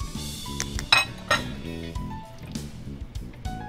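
Metal utensils clink and tap against a pot while melting ingredients for a pineapple and guava paste pie, a quick irregular series of bright knocks, with a low hum underneath.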